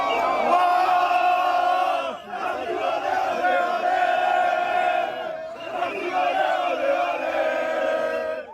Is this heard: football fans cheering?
yes